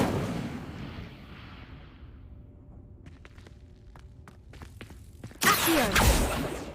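A fire spell cast in the Hogwarts Legacy game flares up as a sudden loud burst of roaring flame near the end. It follows quieter game ambience with brief clicks and thuds.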